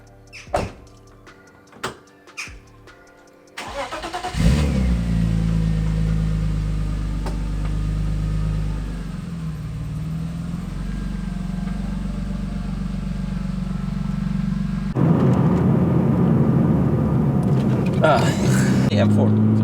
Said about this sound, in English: now I'm gonna get the car out again and start driving